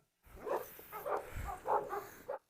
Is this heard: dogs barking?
yes